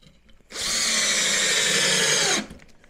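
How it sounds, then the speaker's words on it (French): A power drill drives a screw into a wooden batten, a loud, steady high whine that starts abruptly, holds for about two seconds, then cuts off cleanly. "je viens bien comprimer ma cale de 15 mm et je visse mon tasseau comme ça"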